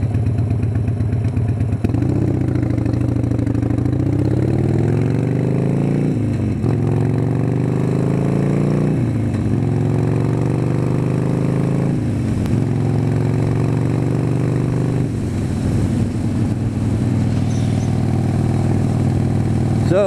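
A Harley motorcycle, either a Softail or a Sportster, idles in gear at a traffic light with the clutch pulled in, a loud close lumpy rumble that dips and swells in pitch several times.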